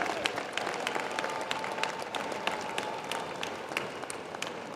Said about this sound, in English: let's give our alum a round of applause and our faculty a round of applause